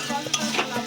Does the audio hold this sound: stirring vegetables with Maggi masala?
yes